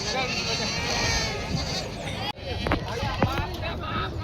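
Goats bleating at a busy weekly goat market in Vasmat, Hingoli, a few short bleats rising over a dense crowd babble and nearby voices, with a sudden jolt midway.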